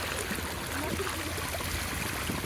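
Water flows steadily out of a street culvert drain during a street flood, a continuous broadband rush and trickle heard close by, with no talk over it.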